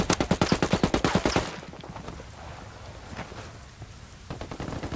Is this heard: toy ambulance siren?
no